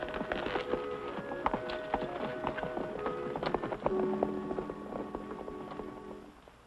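Horse hooves clip-clop in a 1940 Western film scene, a steady run of close, clear beats with music underneath that fades toward the end.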